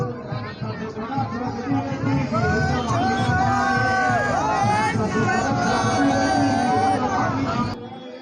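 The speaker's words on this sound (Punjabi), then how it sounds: "ਜੈਕਾਰਾ ਲਾ ਦੋ" A Sikh congregation at the Chola Sahib fair in Qadian raises a loud collective shout, many voices swelling together over crowd chatter before dropping off abruptly at the end.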